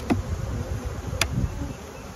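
Honeybees hum steadily around an open hive during an inspection of the upper super, a low continuous drone with a couple of brief sharp clicks over it.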